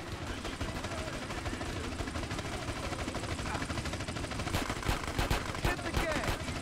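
Rapid gunfire and bursts in the video game GTA San Andreas, dense and continuous with louder shots late, heard close over game noise and voices.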